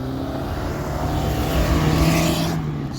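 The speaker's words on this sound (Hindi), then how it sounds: "सन्नाटा के साथ गाड़ी जाते हुए" A vehicle passes on a quiet mountain road, a steady engine rumble that builds toward the middle and fades, heard from nearby with no voices.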